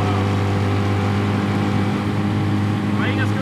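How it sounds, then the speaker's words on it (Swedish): A 15 hp outboard motor pushes an aluminium RIB boat, giving a loud, steady droning hum close by with water rushing along the hull. "Han är brålstark, den jävla motorn."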